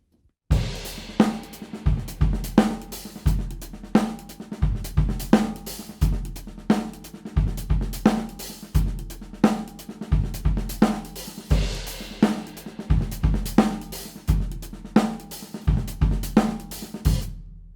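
A drum groove played alone at moderate volume, with steady kick drum thumps woven between snare and hand strokes in a repeating six-note pattern.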